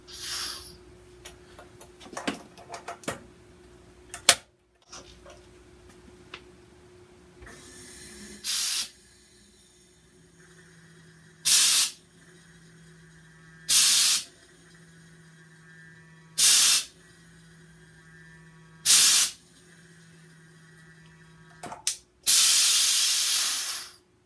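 Pressurised CO2 gas hisses in short, loud bursts of a few seconds each, repeating at regular intervals over a low hum while homebrew beer is transferred, ending in a longer hiss.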